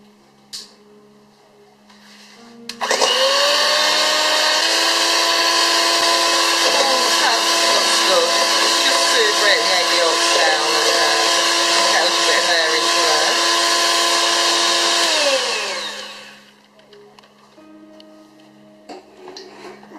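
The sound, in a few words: electric whisk beating egg yolks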